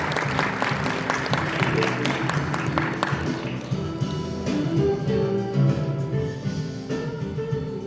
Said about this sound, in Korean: 여러분의 큰 박수로 보내주시면 감사하겠습니다.